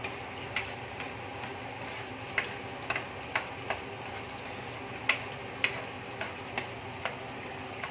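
Aromatics for Kapampangan caldereta sautéing in a pan, a steady close sizzle with scattered sharp ticks of a utensil scraping and tapping the pan.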